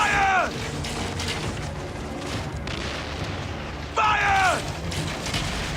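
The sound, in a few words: ship cannons firing in Assassin's Creed Origins naval battle, video game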